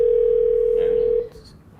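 A telephone dial tone holds as one loud, steady pure tone close to the phone for just over a second, then cuts off, leaving only faint background noise.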